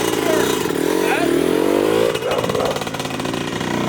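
Dirt bike engine with its exhaust pipe fallen off, revving loud and close with a harsh rasping roar that rises, then falls back, as a person talks over it.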